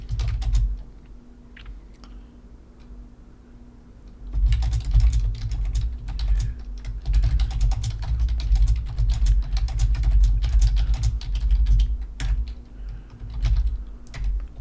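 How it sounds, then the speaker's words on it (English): Rapid typing on a computer keyboard, quiet at first, then a dense run of clicking keys with short pauses, close to the microphone. "All right, just hold on. I'm typing."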